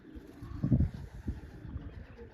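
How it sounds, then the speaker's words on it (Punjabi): A pigeon, the season's first, lands on a perch and gives a few soft, low coos close by, faint against a quiet background. "ਸੀਜ਼ਨ ਦਾ ਪਹਿਲਾ ਕਬੂਤਰ ਆ ਗਿਆ"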